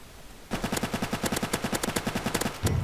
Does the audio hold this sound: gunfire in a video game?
yes